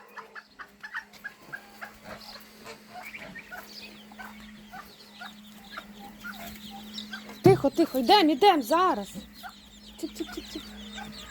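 Bantam and mixed chickens cluck nearby while someone speaks quietly, then a sudden burst of louder, agitated clucking rises partway through.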